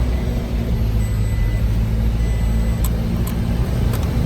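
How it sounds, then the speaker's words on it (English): A Toyota Tacoma pickup engine idles steadily with a deep, continuous low rumble, close and fairly loud, with a few faint ticks above it. "Start the car back up."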